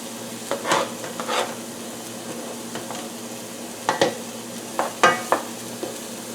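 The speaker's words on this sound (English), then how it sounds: "Now, I'm going to add in the garlic." Garlic sizzles softly in a hot pan with scattered utensil scrapes and clinks, a low, steady frying hiss beneath irregular clatter, no voices.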